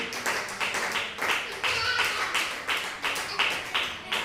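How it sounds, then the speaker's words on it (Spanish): A church congregation claps in a steady, even rhythm, about two claps per second, under a voice and a full background. "Aplauda el nombre de Jesús"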